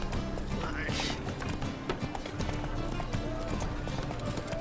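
A horse gallops in The Witcher 3, its rapid clip-clop hoofbeats running under a dense wash of game sound while someone talks.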